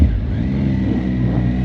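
A motorcycle engine revs steadily close by, a continuous low throbbing drone with a raised, strained pitch held through the whole short stretch, with no voices.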